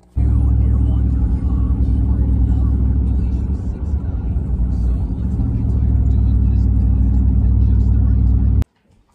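A car drives on the road on a trip home with a newly adopted Persian cat, a steady low engine rumble and road noise filling the cabin for several seconds before cutting off abruptly, with faint voices in the car.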